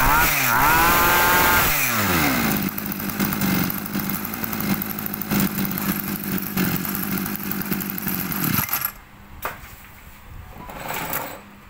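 A backpack brush cutter engine runs on a test start, revving high at first and then holding a steady loud buzzing idle before cutting off and leaving quieter noise, with some talking.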